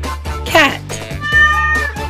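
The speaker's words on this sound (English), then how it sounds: "Cat." A cat meows twice, a short rising cry and then a longer drawn-out one, close and clear with a background hum.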